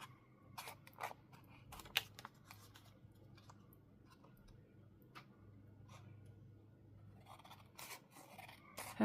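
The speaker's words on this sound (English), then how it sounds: "If you kind of angle your scissors up against the edge," Scissors snipping through craft material, a series of faint, quiet clicks and cuts scattered irregularly over a low room hum.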